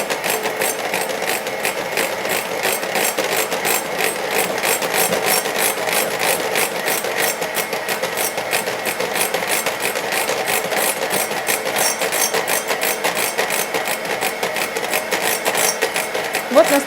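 A handheld electric mixer whirs continuously and loudly, its beaters clattering in a fast rhythmic chatter while whipping dried egg white protein cream with hot syrup for piping flowers.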